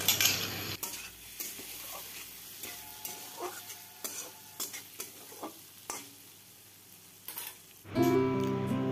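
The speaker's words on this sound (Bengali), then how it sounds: "আমি এখন একটু ঢাকা দিয়ে দিলাম নেড়ে চেড়ে, যাতে একটু সিদ্ধ হয়ে যায় শাকটা ভালো মতন" Spinach being stirred and cooked in a pan gives repeated scraping and clinking strokes over a soft sizzle, close and moderately loud, with a louder burst of frying near the end.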